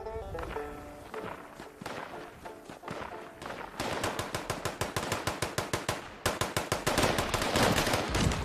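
Gunfire in Fallout 76 starts with scattered shots over game music, then becomes loud rapid automatic bursts in a steady rhythm, close and repeated to the end.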